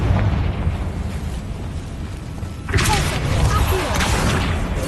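In Hogwarts Legacy, a Confringo blasting spell goes off with a sudden explosive burst that rises over a rumbling, noisy game backdrop. The blast rolls on into a sustained crackling roar.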